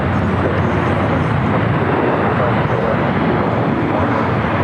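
A Boeing 737 MAX 9 arriving at Los Angeles airport from Panama City sounds as a loud, unbroken jet roar close by, a thick broadband rush holding steady for a few seconds.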